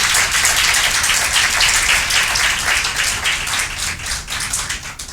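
Congregation applause during a Spanish-language church sermon, loud close crowd clapping sustained evenly for about five seconds and tapering slightly toward the end, with no talking.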